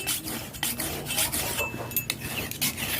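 A knife is ground back and forth on a sharpening stone, making a steady run of close, gritty scraping strokes with faint metallic clinks and no voices.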